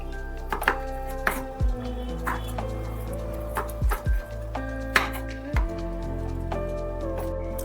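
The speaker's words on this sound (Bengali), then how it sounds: "পুরো ঝিঙেটাকেই কিন্তু এইভাবে লম্বা লম্বা করে কেটে ফেলতে হবে" Ridge gourd being cut into long strips on a board, a handful of sharp knife strikes spaced irregularly against steady kitchen hum and faint background tones.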